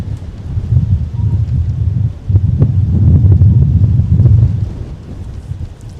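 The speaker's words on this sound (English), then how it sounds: "Wind is certainly swirling today." Wind gusts across a frozen winter airport at Minneapolis–St. Paul, a loud, rumbling buffeting that swells and eases over several seconds, heavy on the microphone.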